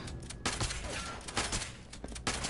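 Enemy shotguns fire in the Fallout 76 video game: several sharp, loud blasts arrive at irregular intervals over a rumbling in-game background.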